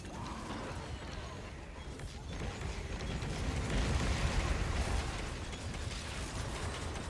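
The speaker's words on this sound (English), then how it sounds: "look at this nice explosion chain reaction." Chain of explosions in the action RPG Wolcen, a dense rumbling cascade of bursts and crackles that swells in the middle and stays busy throughout, with game sound effects layered on top.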